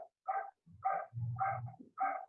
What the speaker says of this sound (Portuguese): um cachorro aí é bravo